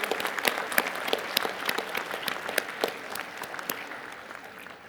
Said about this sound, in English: let's take a moment to applaud all of our presenters for the hard work and dedication